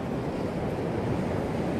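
Continuous wash of surf at Ocean Beach in San Francisco, a broad, steady roar of breaking waves mixed with wind buffeting the microphone, no voices.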